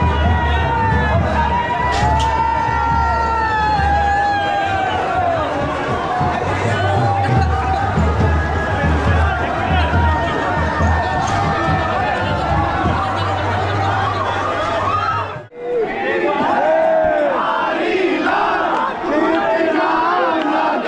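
A dense Holi festival crowd at Banke Bihari temple in Vrindavan, loud and close, with shouting, chanting voices and constant babble, briefly dipping before the roar resumes.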